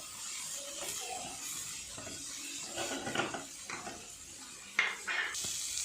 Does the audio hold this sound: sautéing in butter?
yes